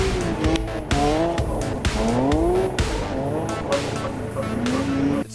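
Cars driven by the Eagle brothers at a quarry rev and slide, tires squealing in long rising and falling wails over repeated engine bursts, loud and close for several seconds.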